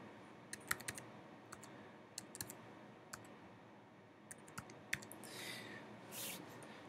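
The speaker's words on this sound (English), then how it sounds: "while I'm typing that in" Keys clatter on a computer keyboard as an IP address is entered during Mac driver setup for a Kyocera TaskAlfa multifunction printer, irregular quick clicks in short bursts over a quiet room hiss, with a brief rustle near the end.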